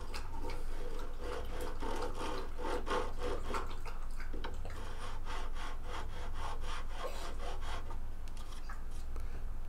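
Guitar nut slot being worked with a nut slotting file on an Epiphone Model 3, steady rhythmic rasping strokes repeating close up throughout, with no talking.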